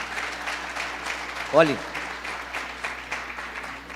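A church congregation applauds during a Portuguese-language sermon, a steady broad wash of clapping under a voice speaking over it.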